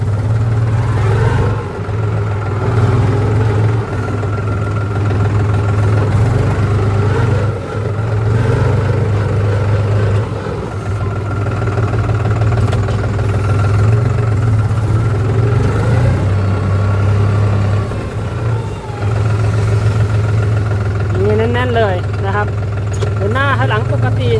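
A 2023 New Holland TT3.50 plus tractor engine runs steadily in first gear after warming up, a constant low diesel drone with a faint whine rising near the end, while someone talks over it throughout.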